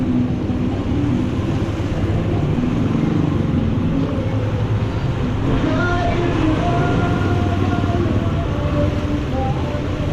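A car drives through a flooded street in Guiguinto, a constant low engine rumble and churning water noise filling the cabin, steady and close throughout.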